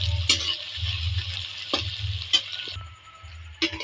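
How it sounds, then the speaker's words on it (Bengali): Chopped onions fry with dried red chillies in a pan, a soft continuous sizzle broken by several sharp scrapes and knocks of a spatula as they are stirred, with no talking. "কুচিয়ে রাখা পেঁয়াজ, পেঁয়াজটা নেড়ে চেড়ে একটু লাল করে নেবো।"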